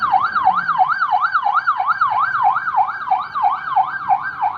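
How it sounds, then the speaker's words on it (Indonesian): A toy ambulance's electronic siren wails in a steady, rapid up-and-down warble, loud and close, repeating evenly with no voices over it. "Ada sirena juga."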